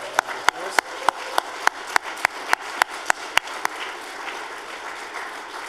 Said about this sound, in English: So let's just give Nicola a round of applause.